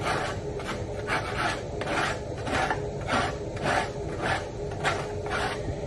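A scraper is pushed across the floor of a grill restaurant at closing time, rasping in a regular rhythm of about seven strokes. The strokes are close, loud and even, with no talk over them.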